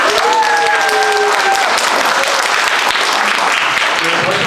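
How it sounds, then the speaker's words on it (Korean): Audience applause at a company's final project presentation event, a dense wash of many hands clapping steadily and loudly, with a few voices rising over it at the start before it carries on unbroken. "혹시 박수 한 번 맞춰주시겠어요?"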